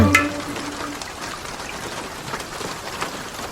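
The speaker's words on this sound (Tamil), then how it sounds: "என்ன மழை விடாது போல இருக்கே." Steady rain falls outside a temple, a soft continuous patter with a brief louder splash at the start, heard alone without talk.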